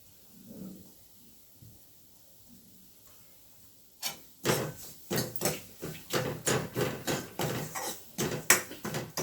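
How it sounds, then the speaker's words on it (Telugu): Jaggery being dropped into a metal vessel, a quiet stretch followed by a rapid series of sharp clinks and knocks, close and fairly faint overall. "బెల్లం వేస్తున్నాను చూడండి"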